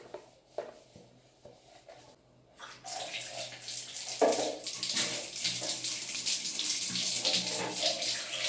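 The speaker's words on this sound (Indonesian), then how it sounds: "Setelah dibersihin tinggal dibilas dan kita letakkan lagi di tempatnya." Tap water runs while cleaned bathroom items and soap dishes are rinsed, first quiet handling and drips, then a strong steady splashing flow close by with no talk.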